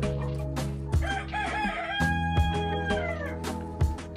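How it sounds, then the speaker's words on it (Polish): A flock of Podkarpacka chickens, hens and roosters kept for breeding selection, crowing loudly and close with overlapping clucks and cackles throughout, a dense continuous farmyard chorus. "Tutaj mamy całe stado kur podkarpackich przed selekcją."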